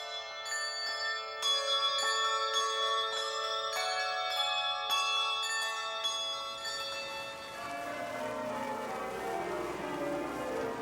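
Handbells rung by York Minster bell ringers, a steady run of bright, ringing struck tones overlapping one another, then a sustained fading ring as the strikes stop, heard alone and fairly close.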